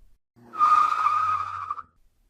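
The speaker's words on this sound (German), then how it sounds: "A car suddenly had to brake." A car brakes suddenly, and its tires give a loud, sustained squealing skid of about a second and a half before it cuts off abruptly.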